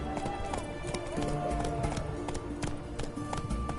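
Roach the horse gallops in The Witcher video game, hooves clip-clopping in a quick steady rhythm that carries through the whole stretch at moderate volume under ambient game sounds, with no talking.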